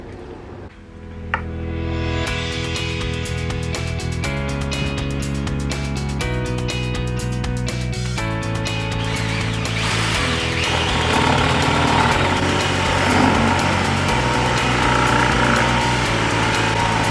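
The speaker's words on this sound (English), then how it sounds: "So let's drill this hole." A power drill starts with a click, then a loud steady motor whine runs close by while drilling a 20mm hole in a campervan worktop, its pitch shifting slightly as it bites into material.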